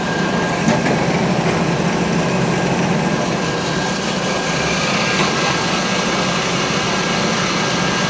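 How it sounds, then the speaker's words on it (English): A Marvel Spartan horizontal metal-cutting bandsaw, fully automatic with a feeder, runs steadily through a piece of wood, giving a constant, loud mechanical hum and whine with no pauses or talking. "we're just cutting wood to make it easy for us here, but it's a metal cutting bandsaw"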